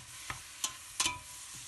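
Diced, salted meat for Szegediner goulash is stirred in a pot, a soft sizzle broken by three or four short scrapes and clinks of a utensil, quiet and close.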